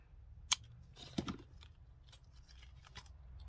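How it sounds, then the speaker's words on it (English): Scissors snip the tag end of a freshly tied fishing line knot on a sea fishing rig, one crisp close cut followed by faint handling rustles in a quiet room. "And then I'll just trim the tag end."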